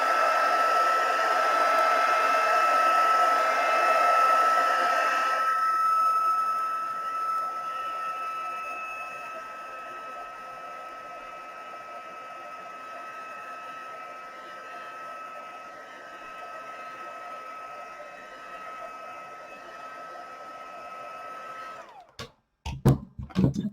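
A hair dryer blows steadily on a watercolour pineapple painting, loud and close at first, then running quieter for a long stretch before a brief clatter as it switches off.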